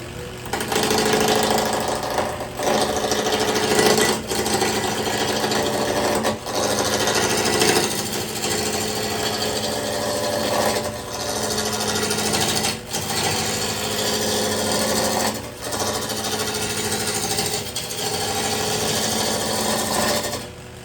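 Wood lathe spinning as a roughing gouge cuts the workpiece, giving a loud, continuous rough grinding with a steady motor hum and brief dips where the tool lifts off.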